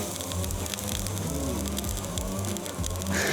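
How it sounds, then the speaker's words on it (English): A tomahawk steak is searing over a fire, giving a dense, steady crackle and sizzle with popping bursts, close and continuous. "All we gotta do is sear it now, lay it on."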